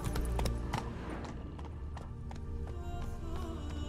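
Horse galloping in The Witcher 3, a quick rhythmic run of hoofbeats with clip-clop thuds under a low game soundscape, close and moderately loud throughout.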